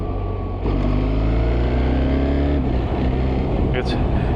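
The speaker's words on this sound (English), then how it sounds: "I'm now in 5th gear and I still have a lot of power when accelerating" BMW R1300GS motorcycle pulling hard in dynamic mode, engine drone rising steadily after a brief lull, with loud wind rush throughout and a rider talking over it.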